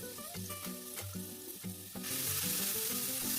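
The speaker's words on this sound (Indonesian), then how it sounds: "Kemudian tumis bumbunya di minyak yang sedikit saja ya bun." Spice paste sautéing in a little oil in a pan, a steady close sizzle that swells louder partway through, with soft stirring scrapes and a tonal background hum, no talking.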